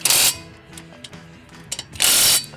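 Lug nuts being snugged onto a 2023 Nissan Leaf wheel during a tire rotation, with two loud bursts of a power tool at the start and end and quieter ratcheting clicks and metal taps between, close by.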